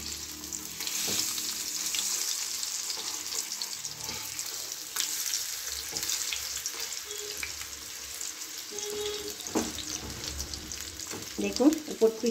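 Fish fry in hot oil with a continuous busy sizzle and crackle, punctuated by occasional stirring or turning clatters, and no talk over it.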